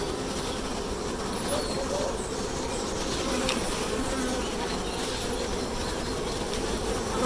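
A dense, steady buzz of many honeybees at an open National 14x12 hive during inspection, some returning with pollen, hums continuously, close by and fairly quiet, with no talking.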